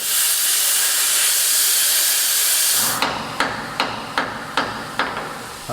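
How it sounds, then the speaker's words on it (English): Bolts being cut off the jack mount of a heavily modified lawn tractor: a loud steady hiss of cutting fills the first half, then stops and gives way to a run of sharp metallic knocks at an even, moderate pace. "So I'm going to cut all these bolts off"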